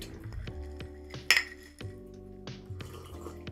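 A single bright glassy clink as drinks touch in a toast, with apple juice poured from a can or bottle, ringing briefly over a steady low background hum.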